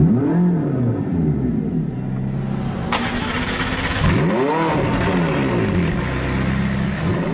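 A McLaren 675LT fires up with a loud, sharp start and blips high, past about 5,000 RPM, then settles into a throbbing idle broken by further swelling revs, heard close and alone.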